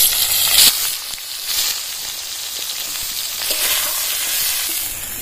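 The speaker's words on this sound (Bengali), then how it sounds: "বেগুনগুলো একটু লাল লাল করে ভেজে নেবো" Cut eggplant pieces frying in hot oil in a pan give a loud, steady sizzle and hiss throughout, with a few brief stirring bumps and surges, close by and without talk.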